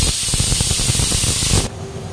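Fish head curry bubbling in a pot of water, a loud steady hiss and seething boil close up that suddenly drops away near the end.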